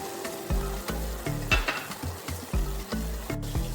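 Banana stem sabzi cooks down in a pan as the water dries off, with a steady sizzle under repeated scraping and stirring strokes of a spatula against the metal pan, fairly close and rhythmic.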